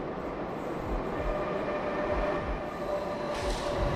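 Train pulling into a station in a horror animation, a steady loud rumble of wheels and carriages with rhythmic low thumps and a faint squeal near the end, no talk.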